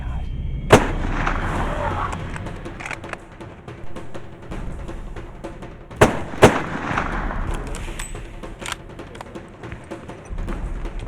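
Rifle shots ring out during an elephant hunt in Botswana, sharp loud cracks heard once early and then twice in quick succession, each followed by a rolling outdoor echo, with no talking.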